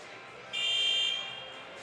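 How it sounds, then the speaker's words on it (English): A scoreboard buzzer blares at a high school boys basketball game, a steady electronic tone lasting about half a second over a loud gym crowd murmur. "First buzzer sounds."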